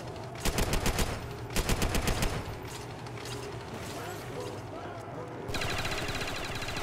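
Rapid automatic gunfire from a machine gun in the Roblox video game, loud repeated bursts near the start followed by mixed in-game mechanical noise and further rattling, with a person talking over it.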